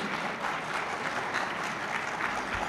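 Audience applause welcoming Bahadır Ali Gül of the East Marmara Çankırı Associations Federation at a federation gathering, a continuous even roar of clapping from a crowd throughout.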